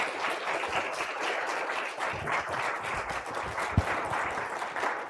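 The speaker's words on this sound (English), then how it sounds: "All right, let's give Claire another round of applause" An audience applauds after a talk, a steady wash of many hands clapping at moderate distance, sustained for several seconds without voices.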